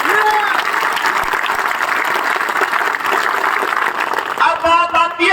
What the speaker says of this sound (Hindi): मैं चाहता हूं झुंझुनू के नाम की जोरदार तालियां होनी चाहिए एक बार